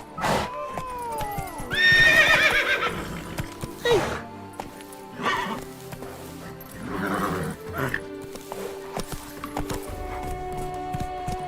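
Roach the horse in The Witcher 3 gives a loud, wavering whinny, then snorts and further neighs over scattered hoof clip-clops, with bits of game sound between the calls.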